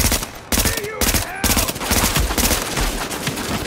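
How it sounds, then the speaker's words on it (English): Loud, close submachine gun bursts in The Division on Xbox One, rapid crackling volleys broken by short pauses, with a voice briefly audible in the mix. "That's like a burst SMG, just trying to take him out."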